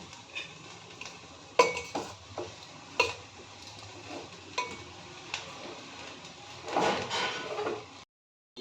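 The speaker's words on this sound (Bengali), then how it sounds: "এর মধ্যে আমি একটু ঘি দেবো, নাড়িয়ে নেবো।" A spoon scrapes and clinks against a pan as fried rice with ghee is stirred, the sharp metallic strikes coming irregularly over a low sizzle before a brief pause.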